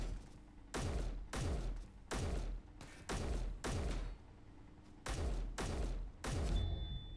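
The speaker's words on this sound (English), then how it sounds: "take a couple pot shots at whatever's shooting at me" Gunfire in the video game Space Engineers: about nine loud, booming bursts at roughly even intervals, each with a heavy low thump and fading tail, separated by short gaps, with no voices.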